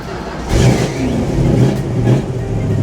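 The 340 V8 of a restored 1973 Dodge Challenger Rally cranks and fires up from cold, then settles into a loud, rumbling, uneven idle close by, with brief speech over it.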